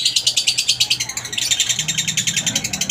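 Opaline dilute mutation pet birds, parblue and green, chirp in a rapid, steady series of close, bright tweets with a brief shift in pattern midway, with no talking.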